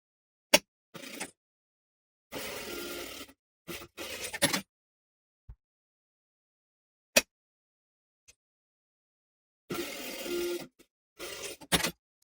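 A sewing machine stitches a button-up shirt collar at a half-inch seam, running in several short bursts of a second or so, separated by silent pauses and a few sharp clicks.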